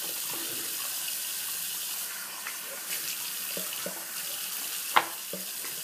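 Tap water runs steadily from a faucet into a sink during face washing, a soft continuous hiss with a few faint splashes and one brief louder splash near the end.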